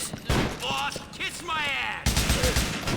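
AK rifle fire in GTA IV, bursts of rapid gunshots cracking in quick succession at moderate loudness, mixed with game effects and a voice speaking over part of it.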